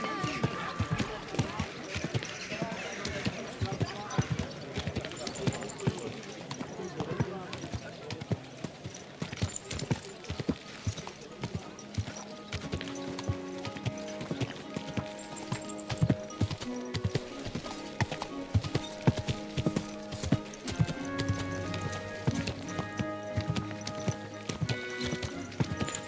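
Horse hooves clip-clop at a steady trotting rhythm in the medieval game Kingdom Come: Deliverance II, with occasional neighing and rustling game ambience, and someone talks intermittently over it.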